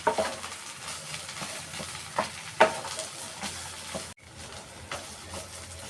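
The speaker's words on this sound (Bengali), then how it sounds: "ম্যাজিক মশলা দিয়ে দেবো সবটাই দিয়ে দেবো দিয়ে এর সাথে মাখাতে থাকবো" Cauliflower chop mixture worked together with magic masala by hand, giving close, soft squelching and stirring strokes in an irregular rhythm, with no talking.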